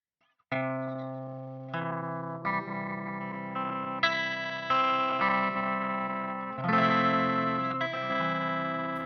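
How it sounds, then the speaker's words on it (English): A sustained, distorted synth-like chord through a Chase Bliss Generation Loss Mk2 tape-emulation pedal swells and shifts pitch in a slow wobble, with crinkles and pops and layered tones changing several times, in stereo, no talking. "You're hearing all sorts of crinkles and pops."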